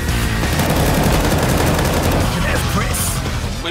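Rapid MP9 submachine gun fire rings out in a Counter-Strike match on the Nuke map, loud, close bursts packed tightly together over several seconds with no voices.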